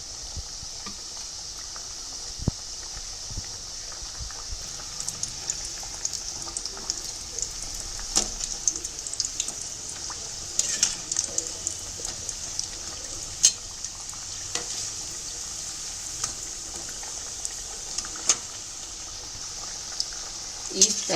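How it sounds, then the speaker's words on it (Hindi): Chapdi dough discs deep fry in hot oil with a constant bubbling sizzle, punctuated by occasional sharp crackles and pops, and faint utensil movement now and then. "इस तरह हम सारी चापड़ी डीप फ्राई कर लें"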